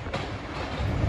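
A northbound express train rolls past nearby, a steady heavy rumble of wheels and rail noise building slightly toward the end, with no talk over it.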